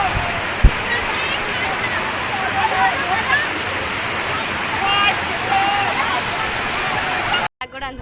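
Loud, continuous rush of water pouring and churning below a dam near Kaas Plateau, with faint voices and shouts of people wading in the water mixed into the roar.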